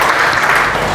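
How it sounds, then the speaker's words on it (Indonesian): Church congregation clapping during a sermon, a brief burst of loud, close, dense applause with no talk. "Terima kasih buat tepuk tangannya."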